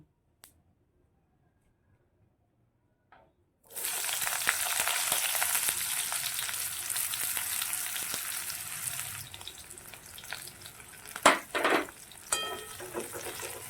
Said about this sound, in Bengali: এই তেলেই আমি একটু কালো জিরে ফোড়ন দেব অল্প করে কালো জিরেটা একটু ভাজা ভাজা হয়ে যায় পেঁয়াজটা দিয়ে দেব